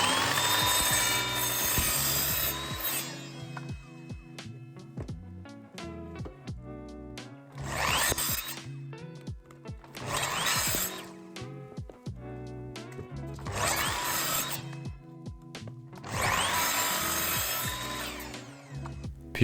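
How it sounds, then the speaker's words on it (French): Wooden battens for shelf supports being sawn, loud close bursts of sawing separated by pauses filled with clicks and knocks of the wood being handled. "je découpe les tasseaux qui serviront de support solide pour les étagères"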